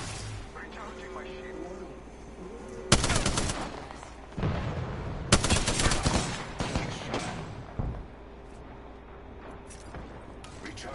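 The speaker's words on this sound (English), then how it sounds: "I'm taking fire" Apex Legends gunfire crackles in several loud bursts of rapid shots, separated by quieter stretches, with a player talking between the volleys.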